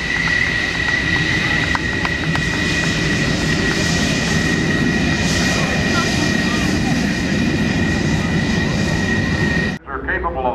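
F-14 jet fighters fly an airshow demonstration at NAS Oceana, a loud, continuous jet roar with a high whine sustained throughout, cutting off abruptly near the end.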